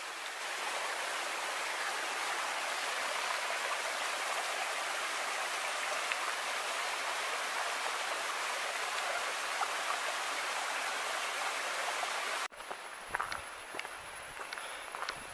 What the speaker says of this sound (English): I'm hearing sound of water coming from that side.